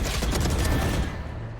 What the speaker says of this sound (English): Profit with the wall bang.